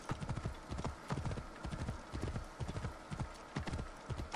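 Horse hooves clip-clop in a steady galloping rhythm with an occasional whinny, from the ancient Egyptian setting of the video game Assassin's Creed Origins, fairly close and with no talk over it.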